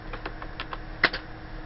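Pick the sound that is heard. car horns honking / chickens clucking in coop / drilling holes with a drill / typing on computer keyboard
typing on computer keyboard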